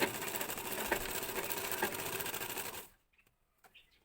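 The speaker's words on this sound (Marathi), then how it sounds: "बरोबर एका लाईनची शिलाई मारून घ्यायची सरळ" A sewing machine stitches a straight line through two pieces of cloth, running steadily and close for about three seconds before stopping, followed by a few faint clicks and handling sounds.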